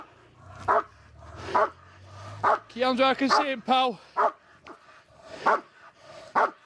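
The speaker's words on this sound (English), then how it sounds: "don't come near the dog or he'll bite you" A police dog barks and yelps repeatedly and close by during an arrest. Rapid harmonic yips cluster in the middle, with single barks spaced regularly before and after, while someone speaks over them.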